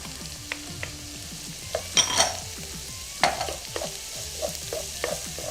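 Onions, garlic and carrots stir-fry in a pan, a soft continuous sizzle broken by scraping strokes of a utensil and a few sharper clinks against the pan.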